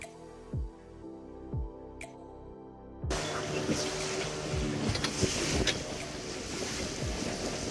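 Boat ride out on the open sea off Goa at sunset: after a few seconds of quieter low thumps, a steady loud rush of engine, water and wind noise fills the rest, with no talking.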